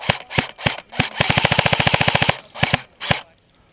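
Airsoft gun firing outdoors: sharp single shots, then a rapid full-auto burst of about twenty evenly spaced cracks, followed by a few more single shots, loud and close.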